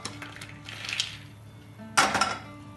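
A metal spoon clinks and scrapes against a hot tava as roasted makhana are scooped out, with a soft rattle followed by a louder, bright clatter near the end.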